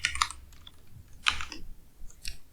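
A name is typed on a computer keyboard in a few quick clusters of close, crisp key clicks separated by short pauses.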